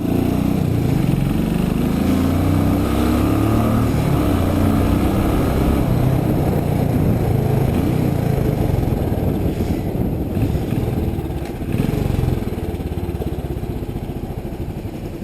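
A 2019 Royal Enfield Classic 500 base model ridden on the road, its engine a loud, steady low thump with rushing wind noise throughout, heard from the rider's position.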